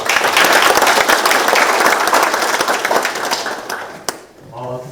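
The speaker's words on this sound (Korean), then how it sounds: "큰 박수로 환영과 그리고 감사의 표시하도록 하겠습니다" Dense, loud applause from a crowd greeting the provincial governor at a rural town meeting, sustained clapping that gradually thins out and stops near the end, followed by a brief murmur.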